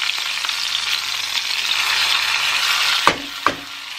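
Hot oil tempering with dry red chillies and curry leaves poured over sambar, a steady loud sizzle throughout with two sharp clinks near the end.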